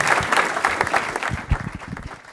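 Audience applause following an economic forecast presentation, a close burst of many hands clapping that thins out and fades toward the end.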